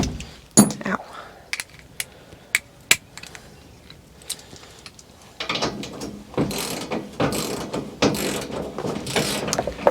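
A hand wrench ratchets on an R model Mack truck transmission. The clicks come in short, uneven bursts, close and loud, with a denser run of ratcheting later on and no clear talk.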